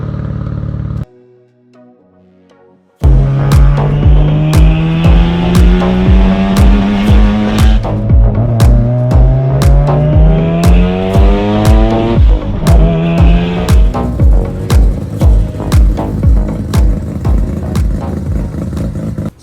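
A Mazda RX7 rotary engine with a new Racing Beat exhaust fires up and revs repeatedly, loud rising and falling pulls with a rapid rasping exhaust note and popping clatter, close to the car.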